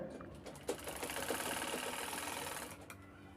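A sewing machine stitches the corners of a bag made from a sari blouse piece, a close, steady rapid whirring and clatter that runs continuously before slowing to a stop.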